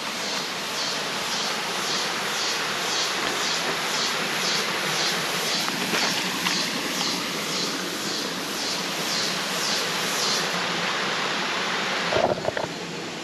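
A small waterfall pours into natural bathing pools at Rincon Basin in Las Cuevas, Trinidad, giving a steady, close rush of falling water that runs unbroken throughout with no voices.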